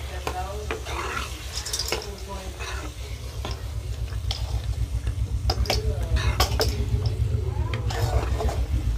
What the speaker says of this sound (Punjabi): ਪਹਿਲਾਂ ਆਪਾਂ ਨੇ ਮਟਰਾਂ ਨੂੰ ਪਕਾਉਣਾ ਹੈ।